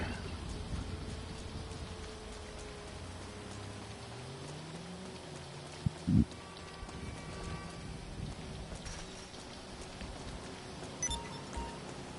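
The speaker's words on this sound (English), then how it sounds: "it's raining in Los Santos" Steady virtual rainfall in Los Santos within a video game, a soft continuous hiss of drops throughout, fairly faint, with a couple of brief thuds and no talk.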